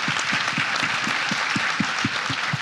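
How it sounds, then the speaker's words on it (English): An audience at a business event applauds, a broad, even sheet of clapping from many hands, with a steady rhythmic low thump pulsing beneath it. "Give her a round of applause, by the way, for making a shift"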